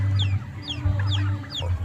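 Pet turkey poults waiting for feed give a few short, high chirping peeps over a low steady hum, close and fairly loud, with no talking.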